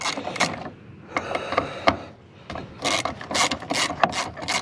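Ratchet clicking as a small 8mm socket loosens the bolts on a Toyota Corolla fuel pump cover, close up, in several bursts of rapid clicks broken by short pauses.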